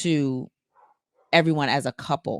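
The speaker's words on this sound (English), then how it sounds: "excuse our dog in the background if you can hear him barking." A dog barks in the background of a home conversation, giving a sustained bark or whine at the start and brief yips later, while a person talks over it close to the microphone.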